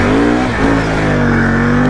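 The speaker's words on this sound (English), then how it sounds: "Hear it bogging the 1000cc motor down?" A 1000cc ATV engine labors under heavy load in low gear, stuck in mud, its low droning note dipping and straining as it bogs down, loud and close.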